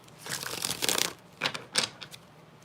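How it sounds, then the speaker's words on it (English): Tarot cards riffle and slap together in a few quick, crisp bursts close by, with short pauses between shuffles. "Cards are flipping literally as I shuffle."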